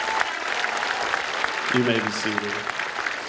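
A high school commencement crowd applauds its graduates, a short burst of clapping with someone speaking over it.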